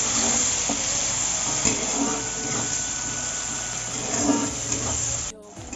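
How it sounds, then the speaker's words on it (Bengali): Onions sizzle in hot oil in a pan for a Bengali chicken curry, a steady broadband hiss with small crackling bursts that runs throughout. "তেলে পেঁয়াজগুলোকে ছেড়ে দিলাম, এবার ভেজে নেব পেঁয়াজগুলোকে হালকা লাল করে।"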